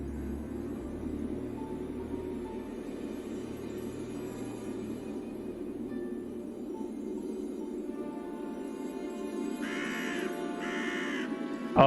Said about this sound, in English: Oh yeah, the crow sound.